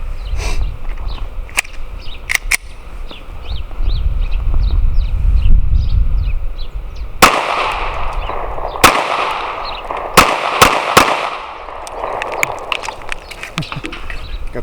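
Glock 48 and Glock 19 pistols fired outdoors at about 7 yards: a loud, widely spaced series of sharp gunshot cracks, some in quick pairs, over a quieter rumbling background with faint bird chirps.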